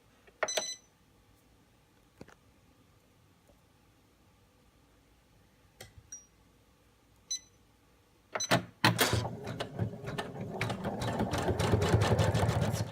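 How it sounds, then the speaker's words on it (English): An embroidery sewing machine starts running placement stitches on a bag after a few quiet clicks and beeps, then settles into a rapid, steady mechanical chatter, close and growing louder. "So your first step runs your placement stitches, it then returns back to your same spot"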